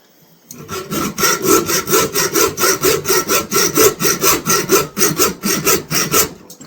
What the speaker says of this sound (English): I'm just going to file off these pins here and knock them through